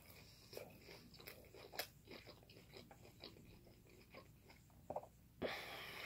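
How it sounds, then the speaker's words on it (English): A crunchy Sonic corn dog bitten and chewed close to the mic, giving a string of sharp crunches and wet chewing sounds at quiet volume with no talk. "That's a crunchy corn dog."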